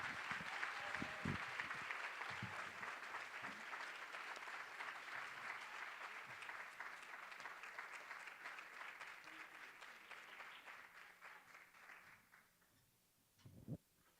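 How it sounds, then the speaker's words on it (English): Conference audience at a food security event gives sustained loud applause, a dense wash of clapping that holds steady for about twelve seconds before tapering off, with a few low thumps and brief voices near the start and a final burst at the end. "Please put your hands together and make noise for Mark Dinglassen"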